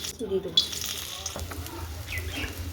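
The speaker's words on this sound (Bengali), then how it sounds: "কড়াটা গরম হয়েছে, দিয়ে দেবো তেল, পেঁয়াজ কুচি দিয়ে দেবো" Chopped onion hitting hot oil in a heated wok and starting to fry, a soft steady sizzle close by, moderately loud, with a few light clinks and a voice talking over it.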